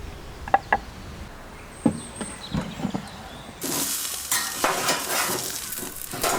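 Jersey Royal potatoes fry in a pan, with a few soft clinks and stirring scrapes at first, then a loud steady sizzle that takes over partway through.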